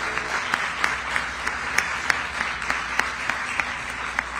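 Audience applause at a groundbreaking ceremony for a rail tunnel project, a sustained crowd clapping with a few louder individual claps standing out at a fairly even rhythm.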